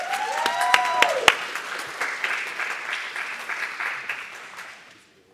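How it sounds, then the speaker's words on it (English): Audience at an evening math education event applauding a speaker: dense clapping that starts sharp and loud, then slowly thins and fades out over several seconds. "Let's give a warm round of applause for Eric."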